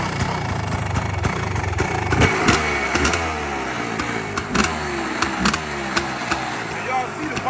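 A Kawasaki KX 500 two-stroke motorcycle, cold-started after sitting for months, idles roughly and unevenly up close, with wavering engine pitch and occasional throttle blips while a person talks over it.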